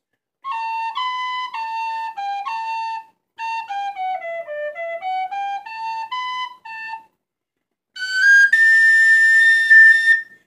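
An Irish tin whistle plays with an alternate anchor fingering: two phrases of short, clear melodic notes separated by a brief pause, then a louder, brighter passage with a sustained higher tone. The whistle is close and solo, with no talking.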